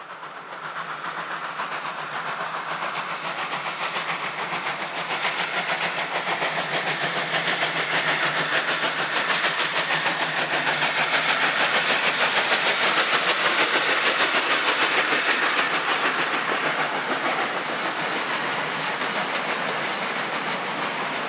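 A GF Garratt steam locomotive hauls its train in South Africa, giving a steady broadband hiss and rumble that builds slowly and holds for about twenty seconds, with faint clickety-clack of the wagons and no voices.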